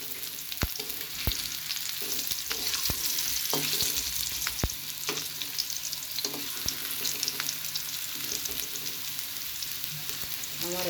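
Potato french fries sizzling in hot oil in a pan, a soft continuous frying hiss with occasional sharp crackles and pops, heard alone throughout.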